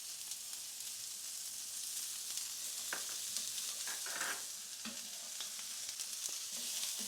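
Rice grains frying in hot oil with ginger, garlic and cranberries, a steady close sizzle with occasional stirring scrapes and crackles, no talk.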